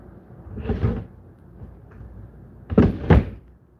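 Apartment dresser drawers are handled while bed sheets are packed, giving two bursts of wooden sliding and knocking with a quieter shuffle between them, all close by and without speech.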